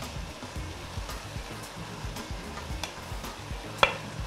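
Cooked rice is stirred and scraped around a hot pan for nasi goreng with a soft continuous sizzle, irregular clinks of the utensil, and one sharper knock near the end.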